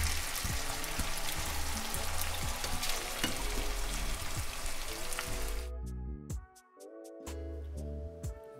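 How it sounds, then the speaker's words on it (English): Diced potatoes frying and crisping in a hot pan, a steady, loud sizzle with occasional stirring scrapes, while music plays over it and the sizzle fades briefly near the end. "we're just gonna let these potatoes cook up and crisp up."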